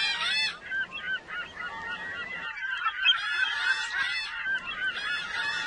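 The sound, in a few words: seagulls calling in the Second Life virtual world game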